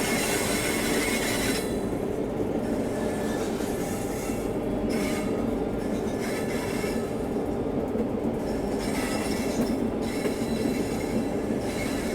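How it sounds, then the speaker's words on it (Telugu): A Shatabdi SuperFast Express running from Pune to Hyderabad Deccan rolls through a sharp curve, with steady loud train rumble and high wheel squeal throughout, recorded on board with no talk. "మనకి లోకోమోటివ్ చూస్తే అర్థమవుతలే కానీ మనం ఎంత కర్వ్ తీసుకున్నాం తెలుసా"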